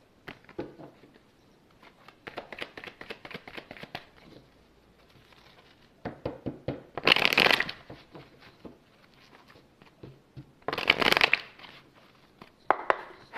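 A deck of oracle cards being shuffled: bursts of quick riffling patter and soft taps, with two louder, brighter riffles standing out, close by and without talk.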